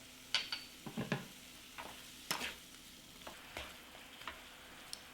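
Pears cooking with sugar, ginger, lemon juice, salt and black pepper in a pan on medium-high heat: a faint, low sizzle broken by scattered soft clicks and scrapes of stirring.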